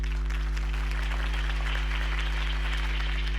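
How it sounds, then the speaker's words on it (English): Crowd applause rings out at a political campaign rally in the Batman Telltale video game, a continuous even wash of clapping over a steady low electronic hum, with no talking. "If only Mr. Wayne, my campaign's largest backer, could have heard that applause"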